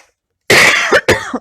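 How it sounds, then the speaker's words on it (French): Two loud, harsh coughs in quick succession, close up, after a moment of silence. "je suis désolée de cette toux persistante"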